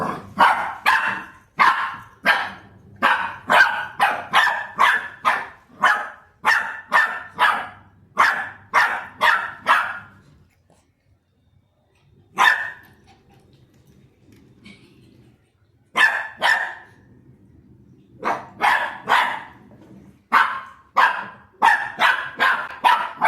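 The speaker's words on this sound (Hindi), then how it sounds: "वहाँ जाके मंदिर में भौंकने लग रहा है" A dog barks at a temple in loud, close bursts of rapid repeated barks, broken by a long quiet gap with only a few isolated barks before the barking resumes in fast runs.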